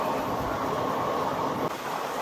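The Andaman Express passenger train, number 16031 on the Warangal to Katra route, rolls along with a steady, close rumble and hiss, alone and unbroken.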